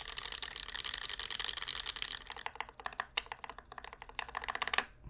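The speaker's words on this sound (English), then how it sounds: "If your keyboard sounded like this, your mom would not complain to you late at night" Rapid typing on a mechanical keyboard fitted with GMK Modern Dolch 2 keycaps, dense steady keystrokes at first, then sparser, sharper individual clacks, close and clear with no talking.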